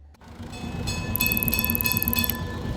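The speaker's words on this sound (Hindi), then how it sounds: "the tram in Kolkata" A Kolkata tram rumbles steadily along its rails, a loud continuous rolling noise with a repeated high-pitched ringing tone over it, and no voices.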